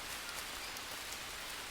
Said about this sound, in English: I mean we're in a rainforest, it's almost always raining.